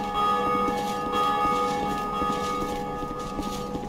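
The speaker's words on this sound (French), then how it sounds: "Il sonne une cloche." A bell rings in Dark Souls II after a lever is pulled, giving a steady resonant tone with sustained overtones that holds through the whole stretch at fairly high level.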